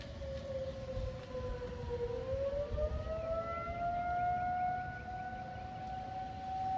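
A distant outdoor tornado warning siren wails steadily during severe weather, its pitch slowly rising as it winds up, over a low rumble of wind.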